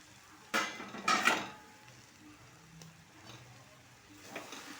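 A cooked, ground chana dal mixture is tipped into onions in a pan, with a couple of quick scraping clatters of a utensil on the pan, then quiet low background with faint stirring.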